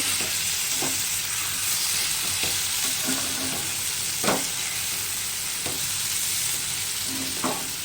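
Taro stolons with shrimp and onion frying in a pan, a steady loud sizzle throughout with a few sharp clinks of a spatula stirring against the pan.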